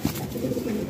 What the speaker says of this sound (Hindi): ये जी लाल खाल के लिए आ रहा कबूतर है